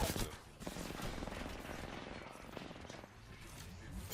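Rapid automatic fire from the 99 gun in a battle royale video game, a dense continuous rattle of shots with a brief break partway, under a faint game soundscape.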